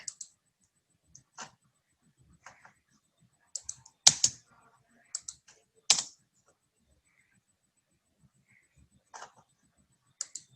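Intermittent typing on a computer keyboard: short clusters of crisp key clicks separated by quiet pauses, close and fairly soft, with no talking.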